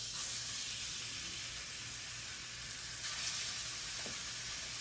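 Salmon pieces frying face down in hot oil, giving a steady, close, bright sizzle and hiss that holds evenly throughout without pause.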